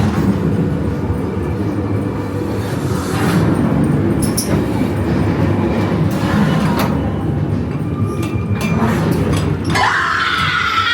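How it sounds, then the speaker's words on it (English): A ghost train dark ride at Blackpool Pleasure Beach, the car rumbling and clattering along the track with a steady loud roar, broken by sudden bangs, shrieks and spooky effects, ending in a harsh hiss. "we've just had a ride there on the ghost train"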